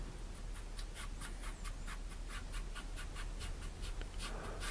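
Big brush dragged across canvas with white and light green acrylic paint, a soft, quiet rhythmic swishing of repeated strokes, close and faint.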